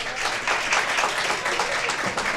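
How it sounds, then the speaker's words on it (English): A steady round of applause for Hartford Mayor Luke Bronin at a Hartford Enterprise Zone Business Association gathering, with dense, even clapping from an indoor audience. "would you please give a round of applause for our Honorable Mayor Luke Bronin"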